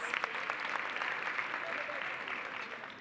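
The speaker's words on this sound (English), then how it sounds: "let's give our parents a round of applause" Parents in a school auditorium are applauded, a steady, moderately distant wash of clapping from the crowd that stays even and slowly tapers, with a few voices calling out over it.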